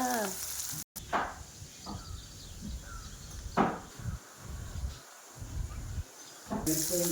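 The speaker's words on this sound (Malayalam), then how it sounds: "കണ്ടാ എണ്ണയിൽ വേവണത് കണ്ടാ" Manthal fish frying in a pan of oil, a steady soft sizzle and hiss running throughout, with scattered clicks and occasional louder spits, faint and close.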